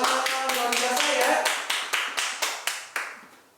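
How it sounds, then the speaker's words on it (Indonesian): Children at a Sunday-school Easter service clap in a burst of rapid, dense applause that breaks into about eight slower, separate claps trailing off, close and fairly loud. "kasih tepuk tangan dong buat Tuhan Yesus adik-adik"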